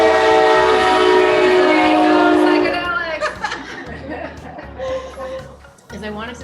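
Train horn sounding a long sustained chord close by for a few seconds, then cutting off and leaving rail rumble with a voice chuckling and talking over it.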